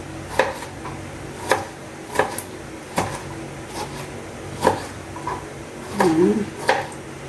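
Kitchen knife cutting the ends off a tomato on a board, a series of sharp distinct chopping taps spaced irregularly, close and clear, with faint kitchen clatter between.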